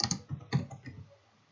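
Clicks and keystrokes on a computer keyboard and mouse while searching for a DHT sensor library, a few quick close taps in a short burst that fades out.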